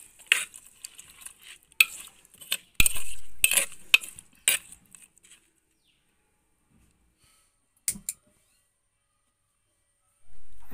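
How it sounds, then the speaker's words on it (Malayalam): A spoon scrapes and stirs through fish curry in a cooking pot, giving a quick series of sharp metallic clinks and scrapes. These fade into silence, broken by one later double clink and a soft closing thud. "ഇത് നന്നായി ഇളക്കി കൊടുത്ത് അടപ്പത്ത് വെച്ച് വേവിക്കുക."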